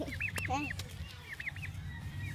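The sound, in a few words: turkey calling while being tickled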